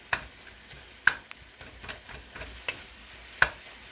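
Ground turkey browning in a pan, soft sizzling beneath a series of sharp scrapes and taps as a utensil breaks up the meat, about six distinct strokes at an uneven pace, close and clear.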